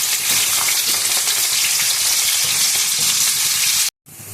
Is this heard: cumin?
yes